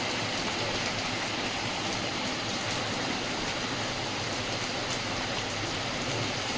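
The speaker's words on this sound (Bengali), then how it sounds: "দারুণ সুন্দর বৃষ্টি হচ্ছে।" Heavy rain pours outside an open doorway in a steady, dense hiss of falling water on surfaces that keeps on without a break and without voices.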